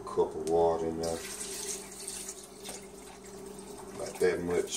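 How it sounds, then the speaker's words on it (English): About a cup of water poured into a blender for walnut milk, a close splashing, running stream with a person speaking over it at the start and end. "Water, you want to put about a cup of water in there."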